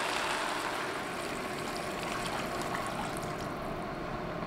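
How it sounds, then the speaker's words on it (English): Water is poured into a pot of black-eyed peas already in chicken stock, making a steady, even trickle and splash that runs the whole time. "I will go ahead and add a little bit of water to it"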